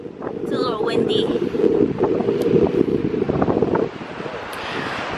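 Wind blowing across a beach, a steady broadband rush buffeting the microphone for the whole stretch, fairly loud, with a voice speaking over it before the gusts ease slightly near the end.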